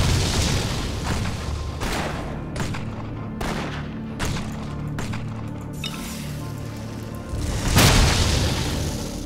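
Explosion spell in the Torchlight video game, heard as a run of loud booming blasts in quick succession, with a bigger burst near the end over a dense rumbling game soundscape.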